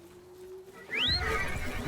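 A horse in the video game Duviri Paradox gives a sharp, rising whinny that follows a steady tone, then turns into clip-clopping hooves, all fairly quiet with no talk.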